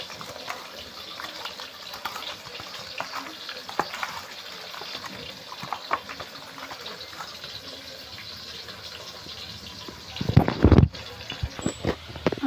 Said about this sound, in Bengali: এবারে মাংসটা একটু মিশিয়ে নেব।